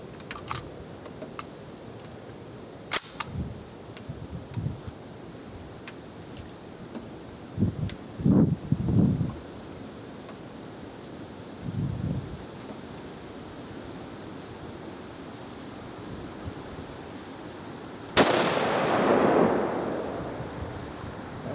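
A Remington Woodsmaster model 742 rifle fires a single shot outdoors, a sharp crack that leaves a long fading tail over faint wind and rustling. Fainter clicks and handling noises come before it.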